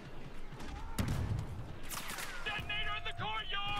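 Gunfire in Star Wars Battlefront II, a few sharp blaster-like shots and a burst around mid-clip over ongoing game ambience, with swooping tonal effects following; someone talks briefly.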